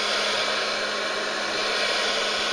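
A hair dryer blows warm air onto a car's LPG reducer to warm it in winter, a steady loud hiss that stays even and close throughout with no voices.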